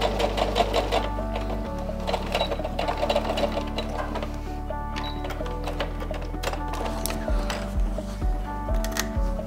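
A sewing machine stitches a curved front center seam on a fabric mask, its motor whirring steadily with rapid needle clatter and short shifts in speed as the seam is guided along.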